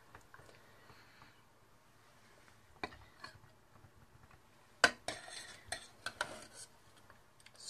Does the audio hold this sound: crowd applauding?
no